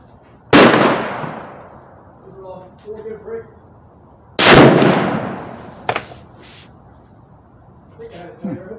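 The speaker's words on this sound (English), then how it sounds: "Second shot with the rifle resting on the stock." Two sharp, loud rifle shots spaced a few seconds apart, fired outdoors at a target with the rifle resting on its stock, each followed by a fading rumble and then brief quiet talk.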